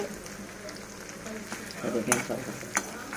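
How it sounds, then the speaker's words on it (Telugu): Dry red chillies, coriander seeds and cumin roast in a pan, making a soft crackle and occasional stirring scrapes under a speaking voice. "ధనియాలు కూడా ఒక రెండు టేబుల్ స్పూన్లు జీలకర్ర ఒక రెండు టేబుల్ స్పూన్లు తీసుకొని వాటిని కూడా చక్కగా దోరగా వేయించుకోవాలండి"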